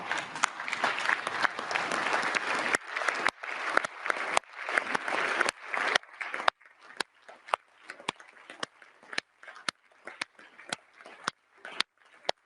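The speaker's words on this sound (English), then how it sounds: "please stand and applaud for our Ukrainian colleagues" A seated audience at the Council of Europe breaks into dense applause for Ukrainian colleagues, a full wash of clapping that thins after a few seconds into scattered, separate claps fading toward the end.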